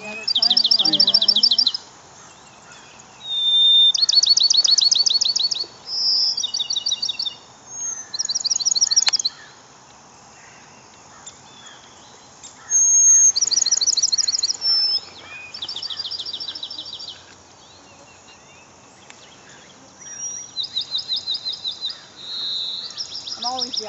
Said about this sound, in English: That's a pine warbler.